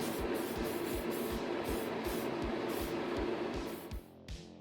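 Clear coat sprayed onto a restored Lone Star Impy die-cast Jaguar Mk X model car, a steady aerosol hiss broken by short regular bursts, fairly close, ending with a couple of brief puffs.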